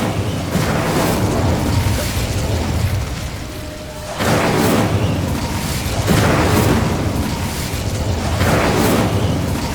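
Incendio fire spell cast in Hogwarts Legacy, a loud roaring burst of flame that surges in repeated waves over a dense rumbling game soundscape.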